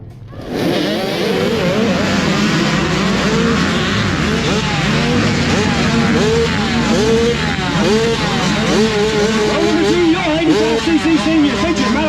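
Youth dirt bikes at an MSXC cross-country race start at The Old Mill Shed in Morgantown, Kentucky, roaring together in a dense, continuous wall of revving engines that holds loud and steady after the launch, with a voice faintly mixed in.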